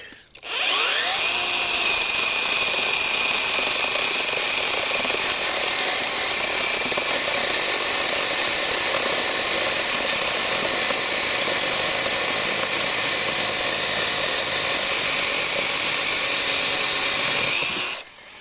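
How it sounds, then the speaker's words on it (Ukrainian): A Konsun cordless battery chainsaw cuts into a tree, its electric motor holding one loud, steady high whine for about eighteen seconds with no talking. "Ріжемо в тому самому місці, де була середня пила."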